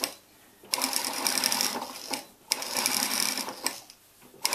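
A home sewing machine stitches a seam on a mini dress in two close, steady bursts of rapid whirring, each lasting over a second, with brief quiet pauses between them.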